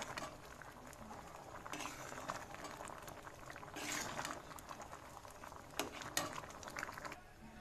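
A pot of ghugni, spiced with garam masala, simmers and bubbles quietly with a soft, steady burbling and a few sharper pops near the end.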